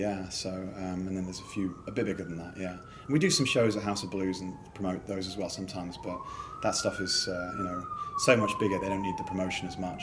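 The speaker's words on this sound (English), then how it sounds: "Sorry about the sirens." Emergency vehicle sirens wail outside in two long rising-and-falling sweeps, moderately loud beneath a continuous conversation between people indoors.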